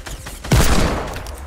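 A single hand cannon shot fired in the video game Fortnite: one sharp, loud blast with a short booming tail, close up over steady game background noise.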